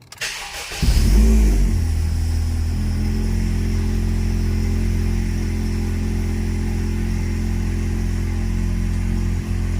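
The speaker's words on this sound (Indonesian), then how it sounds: "Coba tes nyalakan mesinnya." A car engine cranks and catches after an oil change with Kixx full synthetic oil, then settles into a steady, loud, even idle heard up close with no talk.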